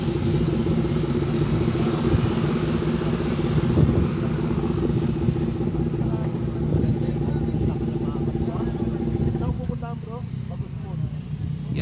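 A large gathering of motorcycles at a roadside bulalo restaurant in the mountains, engines rumbling and idling steadily in the background while people talk nearby.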